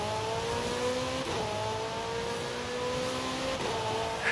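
A McLaren 765 LT supercar in Forza Horizon 5 revs hard and close, its engine note climbing and dropping through quick gear shifts in a steady, continuous roar.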